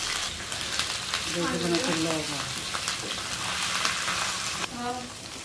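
Onion, garlic paste and ginger paste fry in a pan for prawn biryani, a close, steady sizzle with soft stirring, and a brief voice murmurs underneath.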